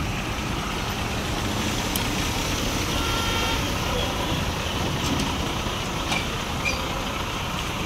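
A goods truck bound for Siliguri pulls in to collect a load of ducklings, its engine and road rumble forming a steady, continuous wash of noise, with faint higher clicks or beeps now and then.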